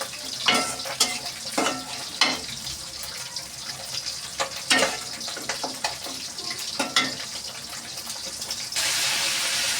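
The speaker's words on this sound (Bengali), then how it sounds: "তাই এটা কষানোর মধ্যে দিয়ে একটু কষিয়ে নেব আমি মাছটাকে মশলার সাথে" Shrimp sautéing in a pan with spice paste for a prawn and sweet pumpkin dish: steady loud sizzling broken by repeated scraping stirs of the spatula, with no talk.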